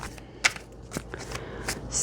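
A deck of tarot cards is shuffled close by in a quick series of crisp riffling flicks and soft taps, fairly quiet and alone.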